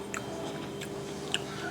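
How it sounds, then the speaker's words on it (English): Someone chews cooked cabbage that is soft but still slightly crunchy, with faint, irregular wet bites and crunches over a quiet background hum. "I'm gonna taste the cabbage one more time."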